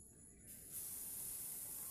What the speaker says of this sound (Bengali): আমি এখন একটা করেই ভাজবো একবারে